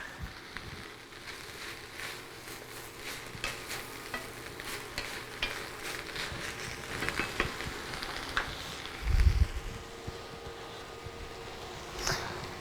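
Garlic and basil sauté in a hot pan for quesadillas, giving a quiet, steady sizzle with occasional stirring scrapes and a louder clatter of the pan near the end.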